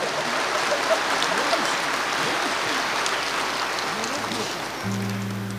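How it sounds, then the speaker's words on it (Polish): Steady applause from a church gathering's audience for the shy music ministry, a dense wash of clapping that holds evenly throughout. "Dlatego trzeba oklaski dla nich"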